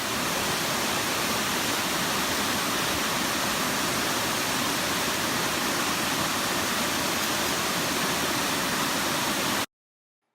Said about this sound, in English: And surprisingly, this was a 2-part waterfall, so we got a twofer.